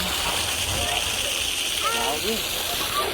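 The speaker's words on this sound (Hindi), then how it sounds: "शाम को पूरा पानी वानी डाला जा रहा है" Water pours and splashes continuously at the Chitragupta temple in the evening, a dense steady rushing wash with people's voices audible faintly beneath it.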